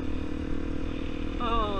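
A Honda CRF250L motorcycle engine runs during wheelies in a brief burst, with its pitch climbing sharply as the revs rise near the end.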